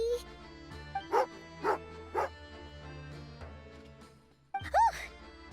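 Tagarin, a dog in a video game, barks angrily in a handful of sharp, separate yaps and growls spread across the moment, fairly close, with a low game ambience between them.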